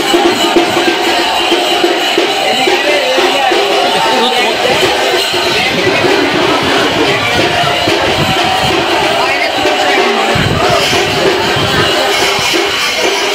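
A dense, noisy crowd packs Barrackpore railway station before dawn, around 3:40 a.m., as pilgrims travel to pour water at Tarakeswar; a steady roar of overlapping voices and shouts continues throughout, with someone speaking close by.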